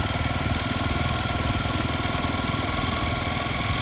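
A motorcycle rolls along with the clutch pulled in, giving a steady engine hum with a fast, even pulsing throb and constant road rumble, loud and close, with no talk.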